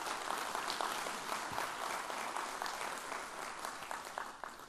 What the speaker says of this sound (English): can we have a big round of applause for Jane?